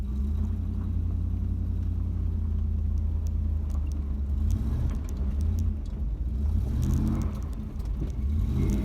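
A Chevrolet Camaro engine rumbles steadily and loudly up close, with deep throaty idling and occasional revs swelling through the drone.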